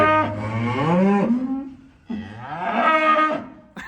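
Two long, loud cow moos, one after another with a short pause between, close by and with no talking.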